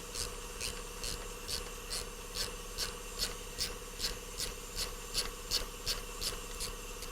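A cloth or rag rubs grease off a valve spring retainer on a BMW N63TU engine, a close, even series of short rhythmic wiping strokes repeating about twice a second.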